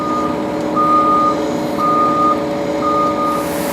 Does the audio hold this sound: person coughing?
no